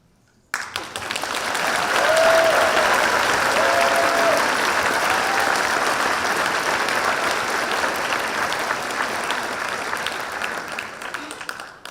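A large crowd at a white coat ceremony applauds steadily, a dense wash of clapping that swells quickly and holds for about ten seconds before easing slightly.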